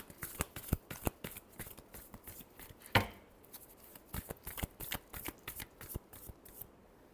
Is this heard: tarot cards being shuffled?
yes